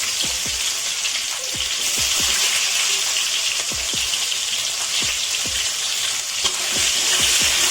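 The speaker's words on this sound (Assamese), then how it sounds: "পিঁয়াজখিনি মিনিমাম 4 মিনিটমান ধুনীয়াকৈ এনেকৈ ভাজি থাকিম" Onions crackle loudly in hot oil for mutton curry, a dense continuous sizzle with a regular rhythm of quick stirring strokes throughout.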